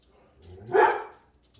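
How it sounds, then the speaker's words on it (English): Dogs at home burst into one short bark as someone walks past the house, a single loud close yelp rising and fading within about a second. "Obviously, there is somebody walking past my house because my dogs just went ballistic."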